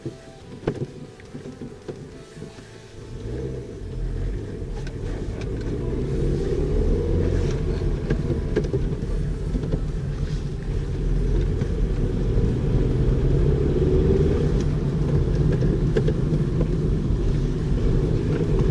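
A manual-transmission car engine accelerating through gear changes, with a steady low rumble that rises and holds, then shifts in tone as the gears change.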